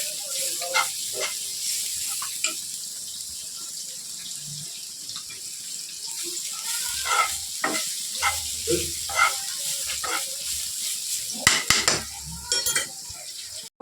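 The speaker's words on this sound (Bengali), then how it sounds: "একটু ভালো করে ভেজে নিতে হবে এরা।" Beetroot frying in a pan on a home kitchen stove, with scattered scraping and clinking of a spoon against the pan over a low steady sizzle, the stirring growing busier toward the end.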